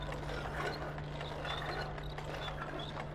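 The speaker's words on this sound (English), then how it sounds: "Okay. Grinder. Oh, we got some meat here. Go grinding." A meat grinder cranks in the Little Nightmares video game, grinding meat into sausage, heard as a steady mechanical ratcheting churn over a constant low hum, with no talk.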